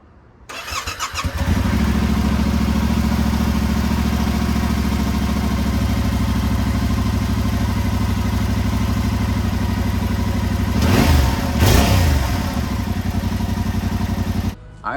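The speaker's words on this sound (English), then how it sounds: "Let's go ahead and get a sound clip of the stock exhaust." A Yamaha R7 motorcycle with its stock exhaust starts up, settles into a loud, steady close-up idle, then gives a couple of quick revs near the end before cutting off.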